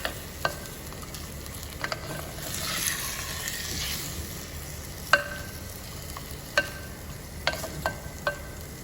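Chopped onions are roughly mixed into hot oil in a handi for chicken curry, giving a soft, steady sizzle broken by a few sharp spoon knocks and scrapes against the pot, close by and fairly quiet.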